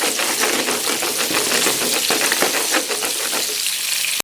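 Milkfish fillets fry in hot oil in a pan with a loud, dense, crackling sizzle that holds steady throughout and cuts off abruptly at the end.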